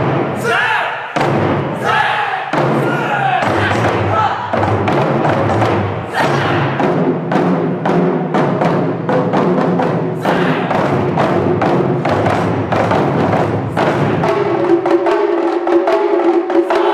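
A high school wadaiko club plays Japanese taiko drums on stage at a school culture festival, with powerful, loud, rhythmic booming strikes in rapid patterns and a crowd audible beneath, ending on a sustained tone.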